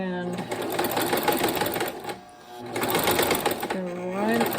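Sewing machine back stitching across a quilted heart, a steady fast mechanical whir running in two stretches with a short pause between, while someone talks over it.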